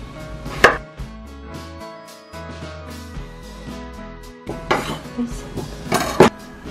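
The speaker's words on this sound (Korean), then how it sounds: "이제 껍질이 벗긴 토란을 잘라보도록 할게요" Knife chopping peeled taro on a cutting board, with a few sharp, close knocks of the blade and clattering utensil sounds spread unevenly over a background of soft music, busier toward the end.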